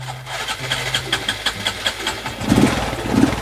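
A Honda Wave 125i motorcycle is started by hand. Rapid, rhythmic engine pulses chug close by, then swell louder as the engine catches.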